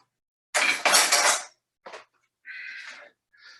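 A ceramic Moroccan tajine cooking pot is handled, giving two loud clattering bursts of ceramic and metal contact, then a short knock and a few lighter clinks fading off, with no talking.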